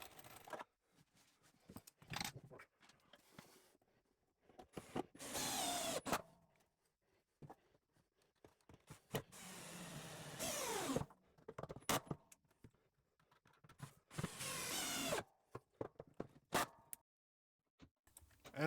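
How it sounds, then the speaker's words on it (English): A power drill bores through the wooden top of a DIY workbench in several loud bursts, with quiet gaps and handling clatter in between. "I realised I can actually just drill through the top, and that was a hell of a lot easier"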